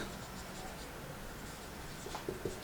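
Chalk or marker scratching across a board during a chemistry lecture, a faint run of soft strokes and taps in a quiet room, growing a little more distinct toward the end.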